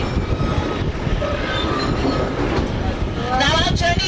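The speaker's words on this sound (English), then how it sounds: "The scenic rail is the last train on the track." A scenic rail train rolls along the track in a continuous rumble of wheels and car noise, with faint squeals coming through toward the end.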